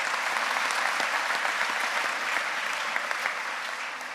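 An audience at an anniversary gathering applauds, a full, steady round of clapping from many hands, fairly distant and even, easing slightly toward the end.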